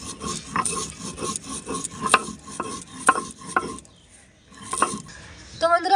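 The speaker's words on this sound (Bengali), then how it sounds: "এবারে শুকনো শিলনোড়াতে আমি গুঁড়ো করে নেব।" Roasted coriander, cumin and ajwain get ground by hand on a dry grinding stone, making rhythmic scraping, rasping strokes with small clicks, close and moderately loud, pausing briefly before resuming.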